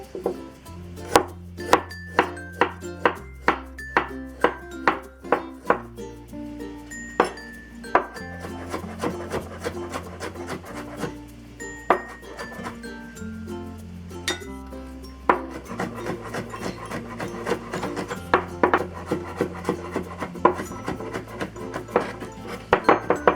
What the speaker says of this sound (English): next let's mince the ginger and garlic